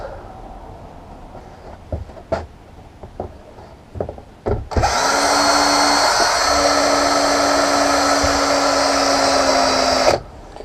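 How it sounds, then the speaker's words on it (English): A few knocks and taps, then an electric drill whirs loudly at a steady high pitch for several seconds before abruptly stopping. "Right, where's my drill?"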